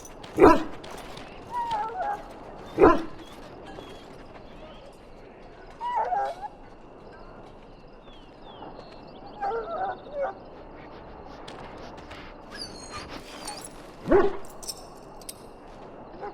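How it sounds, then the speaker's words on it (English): A dog in the Dragon Age Origins video game gives several short, sharp barks and yips spaced across the clip, with quieter sniffing and whimpering sounds in between over a low, quiet background. "Now I can treat the dog properly, poor fella."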